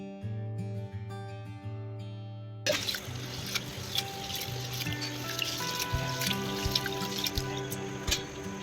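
Water pours over black urad dal in a vessel for rinsing, a steady splashing, trickling wash with scattered drips, close and continuous after a brief musical opening.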